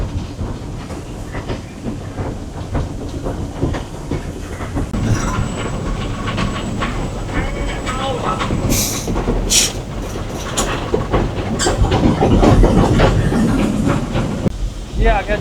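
A train on a Gold Rush tourist line slows to cross a bridge, heard from inside the locomotive cab: steady rumbling wheels and clickety-clack rail joints, with occasional squeals, under someone talking.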